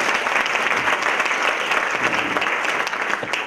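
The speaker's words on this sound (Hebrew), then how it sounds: "תנו לו מחיאות כפיים" Loud, dense applause from a live audience at a startup demo day event, a steady sustained wash of many hands clapping that fills the whole stretch without a break.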